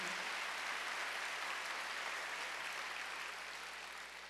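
Congregation at a Wednesday church worship service breaks into sustained applause, a dense, steady wash of clapping that holds for several seconds and only slightly thins toward the end.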